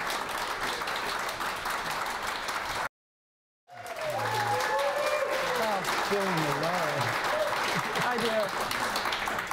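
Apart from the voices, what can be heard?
studio audience applause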